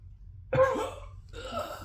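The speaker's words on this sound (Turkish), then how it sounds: "Arada elini göğsüne götürüp öksürüyor." A man drilling gives a sudden harsh cough, then a second rougher, breathier cough a moment later, close by with quiet around them.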